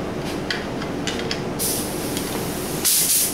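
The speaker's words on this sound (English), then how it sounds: "we're going to go ahead and prime this" A spray gun lays down 2K primer in a garage with a fan running, letting out two bursts of airy hiss after some faint light clicks and handling noise.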